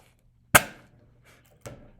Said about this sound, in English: Hydrogen gas explosive.